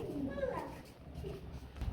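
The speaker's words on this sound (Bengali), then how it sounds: "আর দুই দুইটা জোড়া বেবির সহকারে আরেক জোড়া গ্রিবাস কবুতর রয়েছে" Giribaz pigeons, kept in pairs with young, give soft, low cooing close by. The sound is faint and sits among quiet voices.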